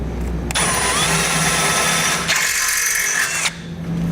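A power drill with a larger bit boring a hole through a 2014 Honda CR-V bumper beam, a loud steady high whine in two sustained bursts separated by a brief pause, close and alone.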